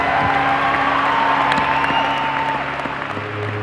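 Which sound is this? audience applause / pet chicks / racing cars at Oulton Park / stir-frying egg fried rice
audience applause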